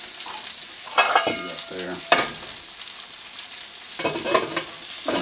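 Asparagus tips cooking in butter in a pan while perch is prepared, a soft continuous sizzle with bursts of scraping and clattering from utensils and a brief spoken remark over it.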